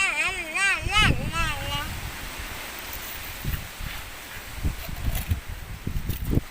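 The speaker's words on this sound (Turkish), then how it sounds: "İyi esiyor arkadaşlar" Strong wind blows outdoors past a house garden, a loud continuous rushing with gusty rumbles against the microphone, and a warbling tone early on.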